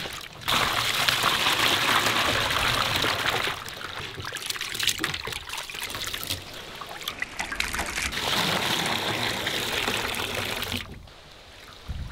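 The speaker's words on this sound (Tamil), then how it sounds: "தண்ணி ஊற்றுங்க." Water pours steadily over prawns in a close, splashing stream, pausing briefly partway through, then running again before stopping.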